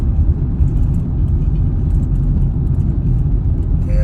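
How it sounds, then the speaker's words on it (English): A water-spraying truck backs up along a roadside near a marina, its engine a loud, close, steady low rumble with a faint hiss above. "Right now we have a truck spraying a lot of water on the side of the road"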